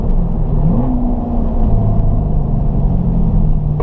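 A car on a race track at the Ron Fellows driving school in Nevada gathers pace, its engine rising in a steady droning whine over continuous road rumble, heard from inside the cabin with no talking.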